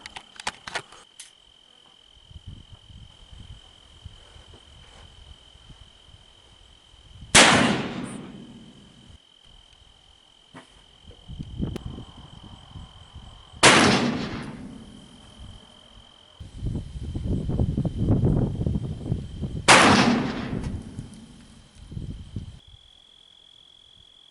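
Three loud, sharp shots from a second-generation Colt Dragoon revolver fired at a target outdoors, spaced about six seconds apart, with a steady insect chirp and quiet handling sounds between shots.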